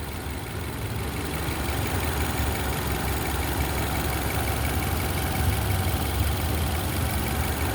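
A four-cylinder engine in a Nissan Rogue with over 300,000 miles on the original engine idles steadily in its open engine bay, a continuous close, even rumble with no speech.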